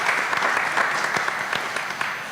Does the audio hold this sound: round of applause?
yes